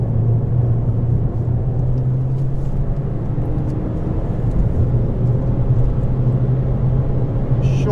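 A Ford Fiesta ST engine drones steadily on a race track track day, a close constant in-cabin rumble with a steady low tone and no voices.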